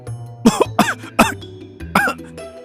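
A person coughs four times in quick, harsh bursts, with a short pause before the last one; close and loud.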